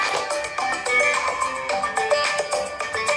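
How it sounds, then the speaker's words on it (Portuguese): Music playing from a mobile phone's built-in speaker with its case removed, a dense, continuous tonal melody with bright plucked notes, thin and steady with no talking. "Esse é o som do meu celular sem o alto-falante."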